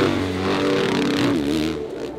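Dirt bike engines revving hard and continuously, a loud, steady buzzing roar with rising and falling pitch as riders push through jumps and gaps.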